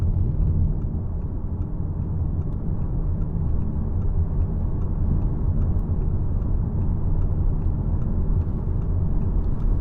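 A 2013 Audi A6 Saloon 2.0 TDI S Line driving, with a constant low road and engine rumble heard from inside the cabin and no voices.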